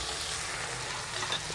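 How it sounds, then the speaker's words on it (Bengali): Chopped onion, ginger and garlic frying lightly in oil for a fish curry, a steady close sizzle that holds evenly throughout with no talk over it. "একটু খুব হালকা ভাজা হবে, লালচে ভাব হবে না খুব একটা"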